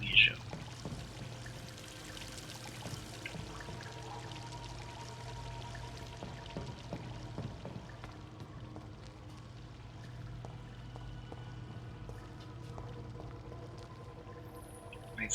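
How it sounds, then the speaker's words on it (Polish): Water drains and its level drops in the Vampyr video game, a faint, continuous pouring and trickling over a low steady hum. "I poziom wody się obniżył."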